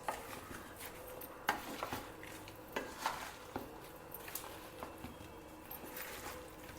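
Mango pieces being tossed and stirred with pickle spice mix for homemade avakai pickle, with soft scraping and clinking of a utensil against a bowl, a few louder knocks among steady mixing, no talking.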